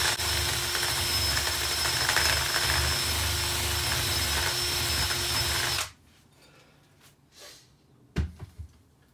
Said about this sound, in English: So I'm going to try it with my electric drill